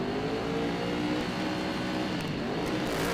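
Several racing motorcycles on the starting grid at an AFM 2014 Formula Pacific road race rev their engines together, a steady, loud, continuous engine roar with rising revs throughout, no voices heard.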